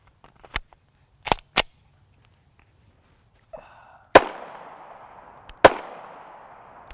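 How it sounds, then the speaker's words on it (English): Several sharp gunshots from a PSA Dagger 9mm pistol firing 115gr FMJ rounds on a range, spaced irregularly, with loud close cracks and ringing decay on the later shots. "I want to get some rounds down range in our dagger and see if we have any failure points"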